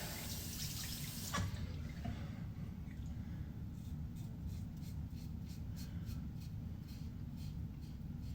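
A cheap disposable razor rinsed under a running tap, a soft continuous stream of water with faint intermittent drips and splashes, quiet and close.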